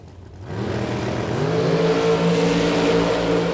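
Bracket drag racing dragsters, including a Mullis-prepared dragster, launch down the strip with a loud, rising engine roar that builds quickly and then holds as the cars pull away, with no voices over it.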